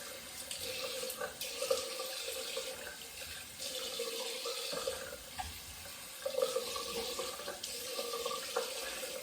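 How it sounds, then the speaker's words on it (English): Water running from a kitchen tap while a shaving razor is rinsed, a steady broadband rush broken by a few brief splashy shifts as the flow is interrupted, close and fairly loud with no talking. "Rinsing, if you're wondering."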